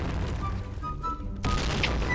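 A grenade explodes in the shooter game Point Blank: a sudden loud boom cuts in after a stretch of gunfire-like rattle and ambient noise.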